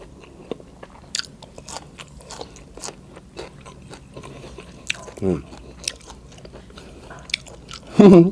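Someone close by bites and chews raw vegetables dipped in a bamboo shoot dip, with soft crunches and wet chewing spread across the clip and a louder burst near the end.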